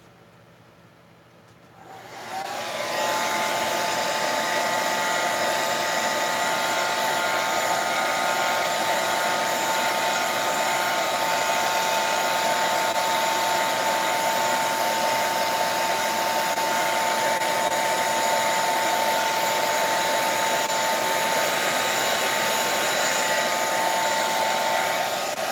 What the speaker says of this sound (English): I'm going to dry that again really quick